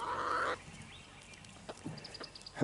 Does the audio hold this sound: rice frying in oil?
no